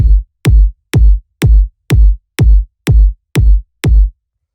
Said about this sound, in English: The next thing we have here is a kick, which sounds like this.